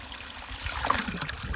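Cold spring water running from a tap into a bottle, a soft steady trickle and splash, faint and fairly near, with no voices.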